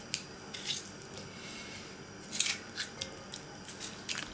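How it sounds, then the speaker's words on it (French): A knife slicing peeled tomatoes on a cutting board makes faint, crisp cutting sounds. They come in short, irregular bursts over quiet kitchen background, with no talking. "je vais couper en tranches mes tomates que je viens d'éplucher"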